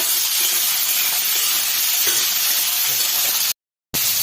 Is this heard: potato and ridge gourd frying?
yes